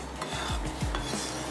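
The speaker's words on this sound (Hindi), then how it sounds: "तो मैं इसमें प्याज ऐड कर देती हूँ।" Chopped onions tossed into heating oil in a pan alongside green chillies for barbecue handi, with a few close scraping and clinking stirs of a utensil against the pan and no voices.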